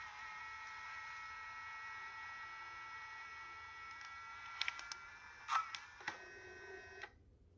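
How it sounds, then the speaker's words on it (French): A Fujifilm Instax Wide Link printer printing a photo gives a faint, steady mechanical hum, then a few soft clicks and a brief whir near the end as the print comes out, then silence. "Je clique sur Impression et la commande est partie. Ça devrait imprimer."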